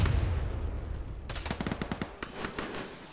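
Gunfire from the military game Arma, played with the ShackTac group, rattles in rapid, distant bursts and scattered single shots, crisp cracks coming fast and unevenly over a low rumble.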